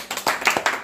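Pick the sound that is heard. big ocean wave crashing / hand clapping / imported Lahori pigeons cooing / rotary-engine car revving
hand clapping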